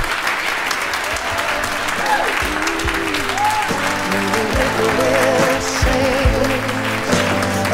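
An audience claps and cheers for a performer after her live performance, sustained applause filling the room while a voice speaks over it.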